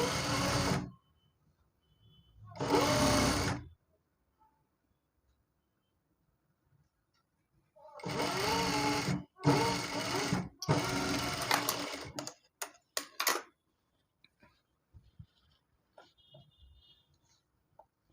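A sewing machine stitches a pant seam, running in a few short separate bursts with quiet pauses between them and a cluster of brief stops toward the end.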